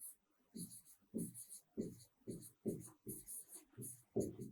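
Pen or pencil writing notes in a classroom science lesson: a regular series of scratchy strokes, roughly one every half second, close and fairly loud with some faint background voice.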